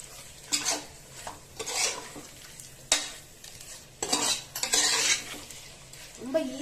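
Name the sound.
sautéing chicken in green masala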